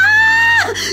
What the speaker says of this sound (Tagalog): Biglang pumailang lang sa ere ang isang makapanindig balahibong hiyaw mula sa loob ng bahay.